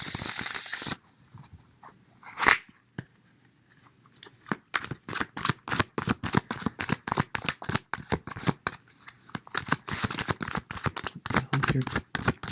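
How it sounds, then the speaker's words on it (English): Tarot cards are shuffled in rapid, rhythmic riffling bursts, close and crisp, repeating steadily after a brief pause and a single scrape. "Really get in tune with this shuffling."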